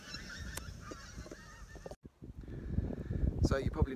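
Pink-footed geese pass overhead in a flock, giving repeated honking calls, close and clear, with some sound from the surroundings and talk around them.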